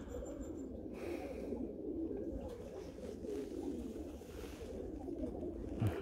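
Pigeons coo in a steady, low, throaty stream, several birds overlapping continuously at close range with no talk over them.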